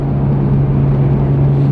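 Tuned BMW 1M with the twin-turbo N54 inline-six and slightly modified exhaust, a steady low droning exhaust note at constant revs, close and even throughout with no talk.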